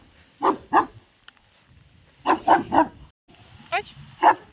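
A large dog outdoors on a countryside walk barks loudly and close in short bursts: two barks, then a quick run of three, then a final pair with a yelp, separated by quiet gaps.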